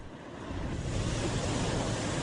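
Ocean waves surge in a continuous broadband wash that swells slightly and holds steady, with a windy, rushing texture and no voices.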